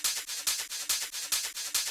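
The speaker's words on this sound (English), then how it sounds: "I've got the 707 ride." Roland 707 drum machine ride cymbal sample, shaped and filtered, in a techno pattern: bright metallic hits repeating about every 0.43 seconds, each with a short washy decay, loud and alone.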